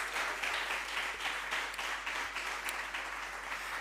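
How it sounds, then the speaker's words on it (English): Audience applause at a disaster risk reduction panel discussion, a quiet, steady patter of many hands clapping over a low hum, with no voices. "Ladies and gentlemen, please clap for Dr. Shani Roper"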